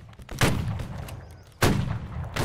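Musket shots in a Civil War video game line battle, set in 1861: two sharp, loud cracks with decaying echoes about a second apart, a third starting at the end, over distant battlefield rumble.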